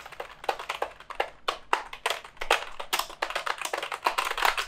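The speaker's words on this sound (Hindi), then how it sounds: "यहाँ पे टाइपिंग एक्सपीरियंस भी सच में काफी सही है, आप साउंड भी सुन सकते हैं" Rapid typing on a budget semi-mechanical gaming keyboard, with dense, crisp key clacks in quick irregular bursts, close and loud, and no talking.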